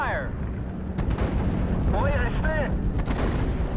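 Artillery and gunfire in the Normandy 1944 war game Steel Division, a dense continuous rumble of booms and shots throughout, with sharp cracks near one and three seconds, under voice callouts and radio-like chatter.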